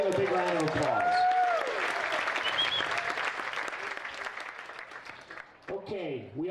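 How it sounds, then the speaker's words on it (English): Audience at a Western States awards ceremony breaking into sustained applause that fades gradually, while someone speaks over the start and end of the clapping. "Let's give a big round of applause."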